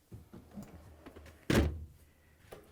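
A single solid thunk of a Bosch dishwasher door shutting, close and loud, with faint handling noises before and after.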